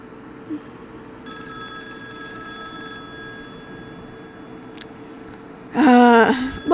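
After several seconds of near silence, a telephone bell bursts into loud, close ringing for the last second or so.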